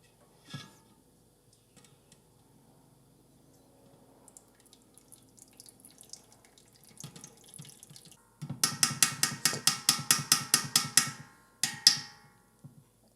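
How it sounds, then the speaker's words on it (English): Quiet handling sounds give way to a loud, rhythmic run of splashing pulses as lye solution is poured through a strainer, then a final splash and silence. "Gonna pour in the lye now."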